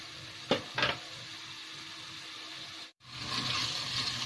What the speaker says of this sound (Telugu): కొద్దిగా దీన్ని వేగనివ్వాలండి